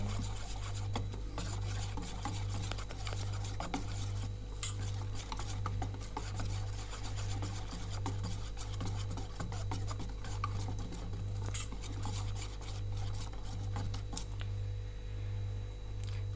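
Gram flour batter mixed with dried fenugreek powder gives off a continuous wet rubbing and scraping, steady and close, with a faint low hum underneath and no talk.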